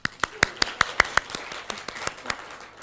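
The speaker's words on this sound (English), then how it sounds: "round of applause for the IPG group" An audience at a conference opening ceremony claps for the IPG group, a brief round of sharp, fairly spaced claps that quickly thins out and fades.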